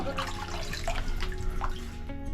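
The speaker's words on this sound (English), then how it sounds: "This is actually where the spring comes up, and it runs all the time." Cold spring water running continuously inside a spring house where the spring rises, a close, steady trickling and splashing with drip-like accents throughout.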